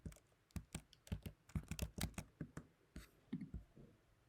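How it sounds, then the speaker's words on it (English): Fingers type a hex code on a computer keyboard in a quick run of about twenty crisp key clicks, close up and alone with no voice. "go to the material and just type in this hex code"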